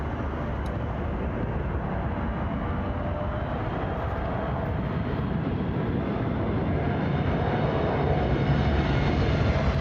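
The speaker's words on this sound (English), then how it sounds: "Trump's Air Force One, the new one." The new Air Force One jet flies past on a test flight, a steady, loud broadband engine roar that swells slightly toward the end, with no talking.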